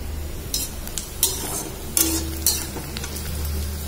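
Meat sizzles softly in a pan while a utensil stirs it, with several sharp scraping strokes against the pan over a low, steady fry.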